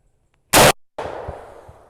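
A Browning firearm firing a 225 grain Extreme Defense bullet at logs, one sharp, loud gunshot with a short echo, followed by rustling and thuds of impact nearby.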